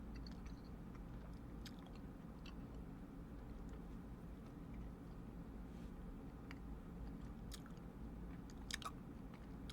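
Soft, close chewing and biting of a blueberry muffin, quiet moist crunches and squishes repeating irregularly over a low steady background hum.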